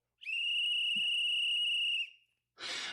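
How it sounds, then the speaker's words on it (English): A referee's whistle is blown once in a long, steady, piercing blast for a timeout, followed by a brief burst of noise. "just another good whistle right there, Kev."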